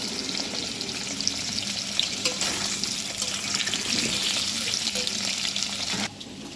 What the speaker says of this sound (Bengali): আমি প্রথমে এই আলুগুলো তেলে ভালো করে ভেজে নেব